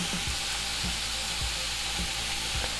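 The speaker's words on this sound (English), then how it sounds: "I'll start to brown this ground beef." Ground beef browning in a pan, cooked with garlic, onion and a little olive oil for macaroni and cheese, giving a constant close sizzle with about five regular scraping stirs; no talking.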